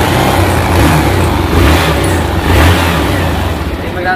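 A motorcycle engine revs in rough, loud surges, sounding worn enough to need an overhaul after suspected connecting rod trouble, with steady mechanical noise throughout and voices faintly underneath.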